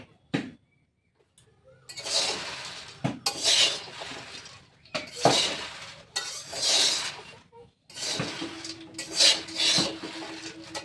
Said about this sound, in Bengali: বাদাম ভাজছি